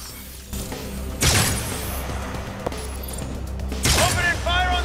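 Bursts of gunfire in the video game Agents of Mayhem, two loud volleys a few seconds apart with metallic ringing tails, heard over a low game hum with a voice speaking.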